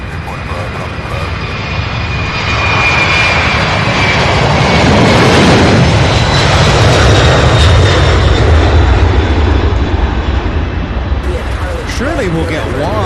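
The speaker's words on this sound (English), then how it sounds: "This is UPS 1356. Brand new 767, first flight in June," Jet engines of a brand-new UPS Boeing 767 freighter roar loudly and steadily at an airport, the broad rumble swelling and holding throughout as the aircraft passes close by.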